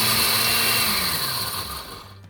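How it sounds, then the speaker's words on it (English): A blender grinding coffee beans, a loud close whirring roar with a steady motor whine that slowly drops in pitch and fades as it winds down at the end. "This is my first time grinding up coffee beans"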